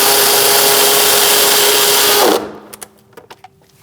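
A power tool whirs loud and steady for about two seconds as it tightens the brake master cylinder fitting on a 2000-2006 Mini Cooper, then cuts off, leaving a few light clicks and knocks.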